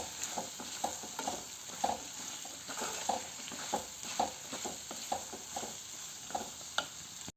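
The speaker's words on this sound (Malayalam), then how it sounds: "എന്നിട്ട് നമുക്കൊന്നുകൂടെ ഇളക്കി കൊടുക്കാം" Garlic pickle with turmeric powder being stirred in a pan, a steady run of soft scraping and clinking strokes over a faint continuous sizzle, close and moderately quiet, with no talk.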